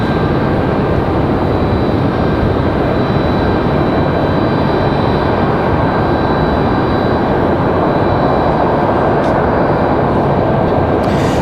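A JetBlue jet airliner arriving from Boston at Raleigh-Durham International Airport gives a steady, loud engine roar that holds broadband and constant throughout, with no speech.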